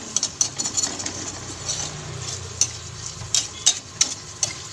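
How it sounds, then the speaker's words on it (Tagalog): Onion and garlic sauté with pork in a pan, a moderate sizzle broken by rhythmic utensil scrapes and clicks against the metal. "Nagsabay ko na siyang igisa yung sibuyas at bawang."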